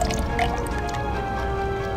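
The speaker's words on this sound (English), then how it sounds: "Yes, it's trickling water." Water trickles and drips in a Doctor Who adventure game, a soft liquid patter with small squishy drops that runs steadily over a low background bed and carries no speech.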